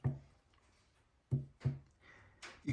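On a first-generation Tama Iron Cobra drum pedal, the shaft knocks in loose bearings, heard as a handful of close, dull thuds and clunks at irregular intervals with faint rattle between them.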